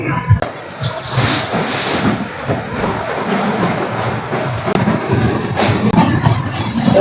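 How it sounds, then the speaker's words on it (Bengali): A train rumbles and clatters overhead across the Hardinge Bridge in Bangladesh in a loud, continuous roar, with a few sharper bangs standing out from the steady noise. "মাত্র ব্রিজের উপর দিয়ে চলে গেল একটা ট্রেন"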